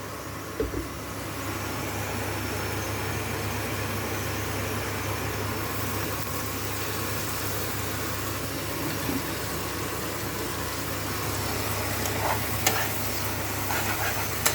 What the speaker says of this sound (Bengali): একটু ভাজা হোক মশলাটা